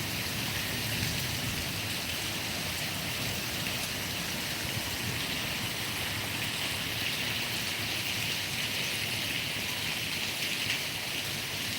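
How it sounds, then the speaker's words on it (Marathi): A heavy downpour falls across farmland near Sambhajinagar, a constant broadband hiss of rain striking surfaces, steady and moderately loud for the whole stretch without speech. "त्या पावसाला सुरुवात झालेली आहे"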